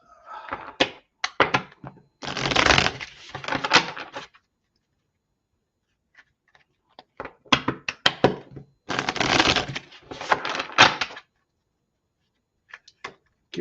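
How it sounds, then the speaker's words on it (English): Bursts of riffling and snapping cards come from a tarot-style deck being shuffled by hand, in two separate rounds of quick crackling flurries with quiet gaps between, and no talking. "Give this deck a good shuffle"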